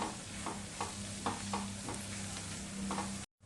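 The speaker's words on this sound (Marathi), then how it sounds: "कांदा भाजण्यासाठी आपण चवीनुसार आधीच मीठ घालूया आणि पाव चमच्यावरून सुद्धा घालूया सगळं चांगलं आपण मिसळून घेऊया" Onion sautés in a pan for masala dosa filling, with a soft steady sizzle and a few quiet scraping stirs of a spoon at an unhurried rhythm, then a sudden stop.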